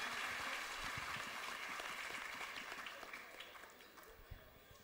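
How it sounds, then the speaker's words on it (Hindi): A crowd at a student parliament claps steadily, a dense patter of applause that slowly fades out, with a few louder claps near the end. "जोरदार ताली अपने दोस्त के लिए बजाइए प्लीज़"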